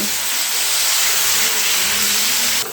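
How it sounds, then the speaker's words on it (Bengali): Flat beans frying in hot oil with turmeric and salt give off a continuous, loud, even hiss and sizzle that holds steady the whole time, with no talking over it. "এবারে নুন আর হলুদের সঙ্গে সিমগুলো একটু ভালো করে ভেজে নিতে হবে।"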